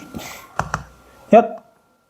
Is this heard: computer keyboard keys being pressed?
yes